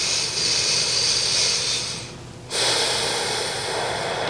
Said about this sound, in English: Send the breath into the back of the ribs, really breathing into the diaphragm